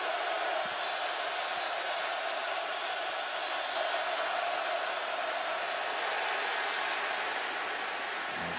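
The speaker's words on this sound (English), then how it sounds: "Listen to this crowd roar." A college football stadium crowd at the 2014 Miami vs Nebraska game roars as a dense, steady, distant wall of noise, holding loud and even throughout with no clear voices on top.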